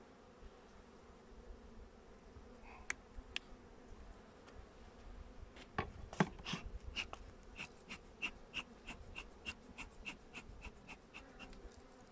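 Honeybees buzz steadily around an open hive while a beekeeper handles brood frames, a soft constant drone close by with faint ticks and rustles from the frames, and no talking.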